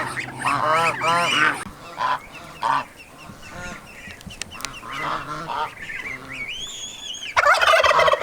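Geese and goslings honking and calling, a loud burst of overlapping honks at the start, scattered cackles and peeps through the middle, and a high piping call rising near the end before a loud flurry of honking.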